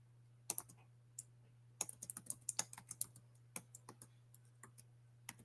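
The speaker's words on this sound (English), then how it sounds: "I'm typing it in now." Scattered, sharp clicks of typing on a computer keyboard, some quick clusters and isolated taps, close and fairly quiet over a low steady hum.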